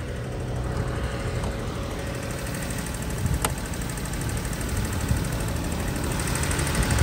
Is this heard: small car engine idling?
yes